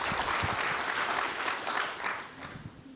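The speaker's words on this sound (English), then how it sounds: "please give an applause to Utsav Shah from Kaaj." Conference audience applauding a speaker at an equipment finance event, a dense wash of clapping from many hands that gradually thins and fades over a few seconds.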